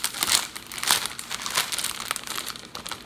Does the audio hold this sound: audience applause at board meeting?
no